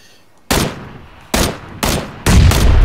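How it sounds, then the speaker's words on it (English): Four loud, sharp shotgun blasts in a PUBG match, spaced irregularly about a second apart, each with a short booming tail, with no talk over them. "Shooting me with a shotgun from long range"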